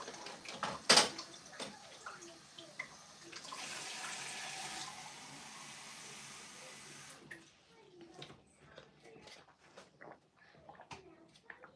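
A tap runs with cold water, giving a steady, hissing splash for a few seconds. Clicks and rattles come before it, and after it stops there is light handling noise and soft movement.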